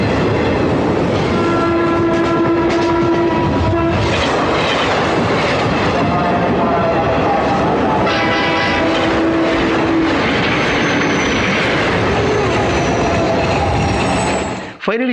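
A fast-running train, engine pulling a few compartments, roars steadily and loudly throughout, with rail clatter, tonal horn blasts, and faint voices mixed in before a sudden cutoff at the end.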